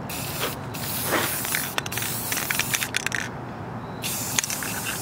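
Aerosol spray paint hissing onto a part of a rare Briggs & Stratton NR6 engine during restoration outdoors, in short bursts with brief pauses and light clicks of the can between them, close and fairly loud.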